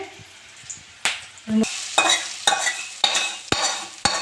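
Green chillies drop into hot oil with a sharp crackling sizzle, followed by a run of stirring scrapes and sputters that come in a steady rhythm, close and moderately loud, with no one speaking.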